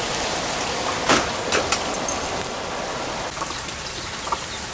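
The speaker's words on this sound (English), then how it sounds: "The rain is getting heavier" Heavy rain pours steadily outdoors near a chicken coop, a dense continuous hiss with a few louder drips and spatters standing out, and no talking.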